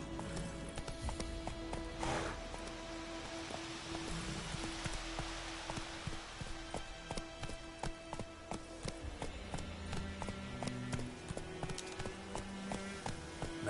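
Roach, the horse in The Witcher 3, gallops with steady clip-clopping hooves over a constant rain-like game ambience, moderately loud with no talk.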